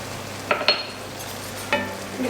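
Plain flour being stirred into turkey and leek pie gravy in a pan, a few soft scraping strokes of a spoon against the pan over a low background hum.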